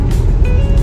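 A car's engine drones steadily on a snowy mountain road approaching the Atal Tunnel near Sissu, a continuous close rumble from inside or beside the vehicle with a faint thin whine, no speech.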